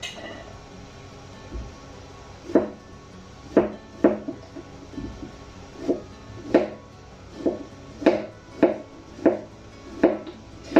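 A knife cuts courgette on a board in steady, separate chops, about a dozen crisp strikes spaced roughly half a second to a second apart, heard close up with no talking.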